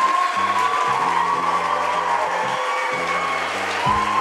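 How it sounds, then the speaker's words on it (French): Students clap together at a school slam poetry night, a dense, steady burst of applause filling the hall without letup, with music playing underneath. "vous pouvez vous applaudir"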